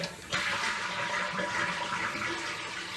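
A household toilet flushes close by with a sudden loud rush of water that settles into a steady swirling drain and refill, the toilet having a running-water fault under repair.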